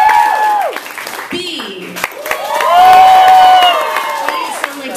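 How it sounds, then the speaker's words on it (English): An audience at a live stage show claps and cheers, with whoops and shouting voices rising through the middle, mixed with strong vocal tones over the crowd noise. "Round of applause,"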